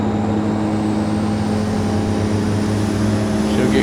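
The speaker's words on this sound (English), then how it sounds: "I'm going to run the engines about halfway up, let them build a little momentum, and then I'll bring them all the way forward as I release the brakes" Aircraft engines roar steadily and loudly at high power at the start of a takeoff roll bound for Saba Island, holding a constant droning hum with no voices.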